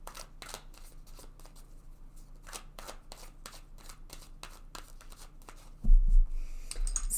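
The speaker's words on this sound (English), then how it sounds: "just give these a shuffle" Tarot cards are shuffled in a quick run of crisp, rhythmic riffles close up, ending with a louder thump or handling noise.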